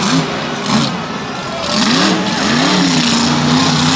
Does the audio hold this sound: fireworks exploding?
no